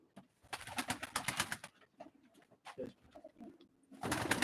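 Close pigeon sounds at a live pigeon auction, with soft cooing and fluttery, rustling noises in bursts, quieter pauses between, ending in a louder burst of flapping.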